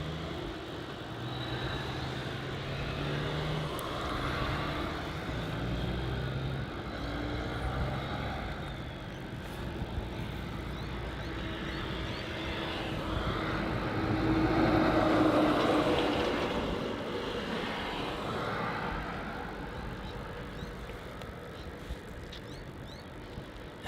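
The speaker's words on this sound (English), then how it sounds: "On departure for runway 27 we have the Rec 737 heading off to Adelaide at ZL 437." A Rex Boeing 737 departing runway 27 gives a distant, rumbling jet roar that swells to a peak midway and then fades slowly.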